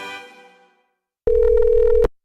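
A single electronic telephone ring, a steady pure tone lasting under a second that starts abruptly after a fading chime and a stretch of silence.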